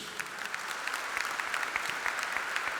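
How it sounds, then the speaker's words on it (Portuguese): A church congregation claps in praise to God, a soft, fairly distant round of many hands with scattered sharper individual claps standing out. "Uma salva de palmas para o nosso Deus."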